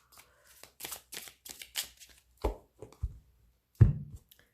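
Tarot cards shuffled for a three-card spread, a run of quick crisp riffling bursts followed by a few louder dull taps as cards are set down, close and clear with no talking.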